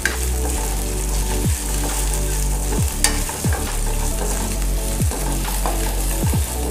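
Capsicum for gobi manchurian stir-fried in a hot pan, a loud steady sizzle broken by repeated scraping strokes of a spatula every second or so, close up with no speech.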